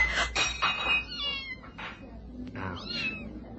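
A cat yowls and meows several times after a bottle is thrown into a garden, drawn-out wavering cries close up in an old radio drama sound effect.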